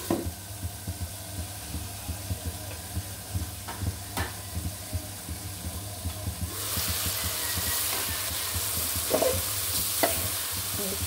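Fish cooked with water lily stems sizzles and fries in a pan while a utensil stirs and turns it, with scraping knocks early on and a louder, steady hiss of frying in the second half.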